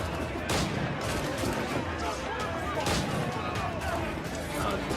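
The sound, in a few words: gun barrel shooting in the video game Assassin's Creed 4: Black Flag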